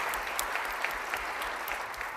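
A concert audience at a show applauds, a steady, even patter of many hands clapping at a moderate distance, fairly soft and unbroken throughout.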